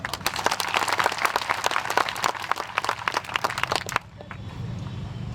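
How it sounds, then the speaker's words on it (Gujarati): Rally crowd claps loudly for Bhim soldiers, a dense, sustained burst of applause that cuts off sharply near the end, leaving a low murmur of the crowd and background noise. "સૌથી પહેલા ભીમ સૈનિકો માટે એક તાળી"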